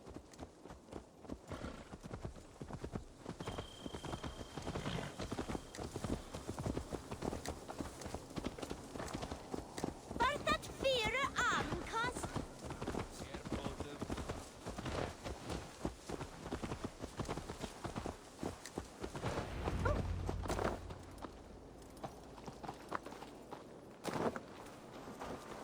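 Horse hooves in the video game Assassin's Creed Valhalla clip-clop steadily at a walking pace, fairly faint, with a brief whinny and some rustling movement partway through.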